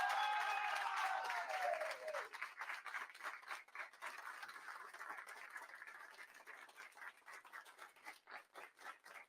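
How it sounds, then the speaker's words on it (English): Applause from a group of hockey players celebrating a teammate's four-goal game, starting loud and gradually thinning into scattered, uneven claps, with a brief high whistle-like tone near the start. "All right, stop clapping."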